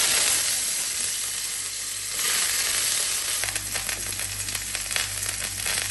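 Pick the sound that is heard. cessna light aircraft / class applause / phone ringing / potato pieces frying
potato pieces frying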